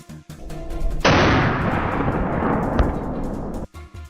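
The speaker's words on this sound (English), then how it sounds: "The sound of gunfire echoed from all directions" A rifle shot during a large-scale wild boar hunt in the New South Wales forests, a single loud booming report that rolls into a long echoing decay through the surroundings.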